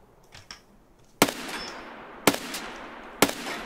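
Three sharp 9x19 pistol shots ring out in Escape from Tarkov, evenly spaced about a second apart, each a loud crack with a short echoing tail, and there is no speech.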